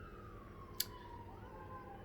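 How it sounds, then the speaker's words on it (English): A distant siren wails faintly in a slow descending tone, with one sharp click partway through. "Excuse the siren"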